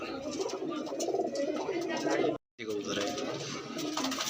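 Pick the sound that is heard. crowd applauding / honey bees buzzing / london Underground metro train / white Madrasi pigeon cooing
white Madrasi pigeon cooing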